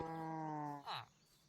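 Cows in a video game moo in one drawn-out, fairly loud low bellow with a rising, breathy end, heard alone with no talk.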